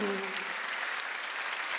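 A church congregation breaks into a short, steady round of applause, rather soft and distant, with the tail of a voice at the very start.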